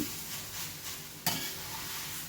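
Jackfruit and coconut thoran being stirred in a pan, a steady soft sizzle with scraping strokes and one sharper clank of the spoon against the pan partway through, with no talk.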